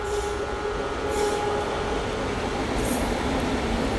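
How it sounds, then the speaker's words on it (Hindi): The Mahabodhi Express passenger train rolls into a station in India with a steady, loud rumble of wheels and carriages that fills the whole stretch, plus faint squeals, and no one speaking. "ट्रेन अपनी पहुंच चुकी है कुंद्रा"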